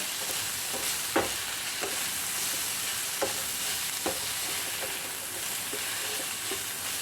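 Long beans (achinga payar) cooking in a pan for mezhukkupuratti, with a constant soft sizzle and a few scattered stirring scrapes and taps, close and moderately loud, no voices.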